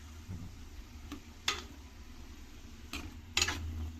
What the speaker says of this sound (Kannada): ಜಸ್ಟ್ ಬಟಾಣಿನೇ ಮಿಕ್ಸ್ ಮಾಡಿಕೊಂಡ್ರೆ ಸಾಕು.